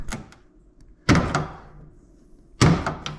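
A door handle clip on a Ford F250 door is worked open with a screwdriver during handle replacement, giving three sharp plastic-and-metal clunks, the last two loud and close, each followed by a brief rattle.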